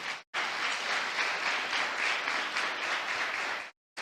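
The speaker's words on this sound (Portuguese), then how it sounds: "Aplauda ao Senhor aí." Church congregation applauding during a Brazilian evangelical sermon, a steady, full burst of clapping that starts abruptly and cuts off cleanly near the end.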